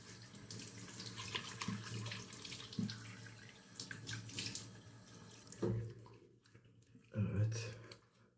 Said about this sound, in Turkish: Soğuk suyla bir yıkayalım.